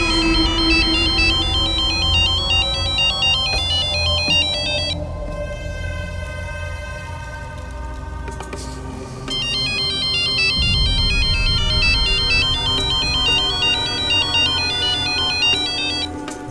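A telephone ringtone plays a repeating electronic melody loudly for most of the span, pausing briefly midway before resuming, with a low hum underneath.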